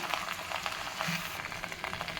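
Vallarai (gotu kola) greens sizzle softly as they sauté in a pan, a faint, steady crackling hiss with small irregular pops.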